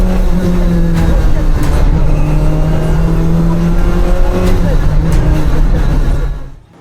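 Loud rally car engine drone heard from inside the cockpit at the 2024 Tour de Corse, holding a steady pitch with shifts as revs change, continuous throughout before cutting off at the end.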